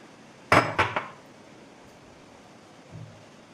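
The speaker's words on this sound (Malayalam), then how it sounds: "റംബൂട്ടാൻ ഒരു മിക്സിയുടെ ജാറിലേക്ക് ഇട്ട് കൊടുക്കണം." Rambutan fruit drops into a mixer jar, making three quick, close clattering knocks in a row, followed a few seconds later by one softer bump in a quiet kitchen.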